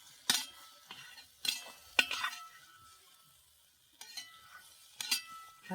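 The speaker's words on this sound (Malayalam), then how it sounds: "നമുക്ക് മുറിച്ച് വെച്ച വഴുതിനിങ്ങ ഇതിനകത്ത് തട്ടിക്കൊടുക്കണം നല്ലോണം ഇളക്കി വെക്കും" Cut brinjal is stirred into masala in a pan with a handful of separate scraping, clinking strokes of a spoon, quiet and close, with near silence between them and only a faint sizzle.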